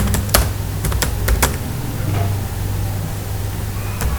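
Fingers tap on a computer keyboard while a simple webpage is coded, a close burst of sharp clicks early on followed by a few scattered keystrokes over a low steady hum.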